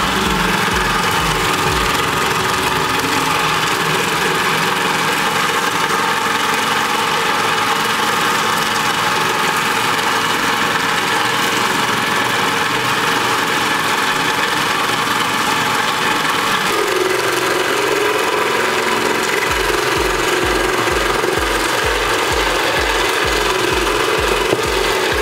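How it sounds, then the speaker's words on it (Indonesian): An electric mixer beats a second batch of cake dough, giving a loud, steady motor whine with a grinding texture that runs without a break, shifting slightly in tone partway through. "untuk adonan kedua yang telah kita bagi tadi, kita mixer juga"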